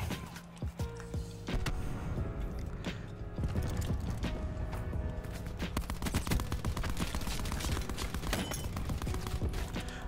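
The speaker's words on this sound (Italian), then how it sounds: "Proviamo a lanciargli una granata a grappolo." A cluster grenade thrown during a Call of Duty Black Ops 4 Blackout battle royale match, amid dense bursts of rapid gunfire and sharp explosive cracks that continue loudly throughout, with no talk.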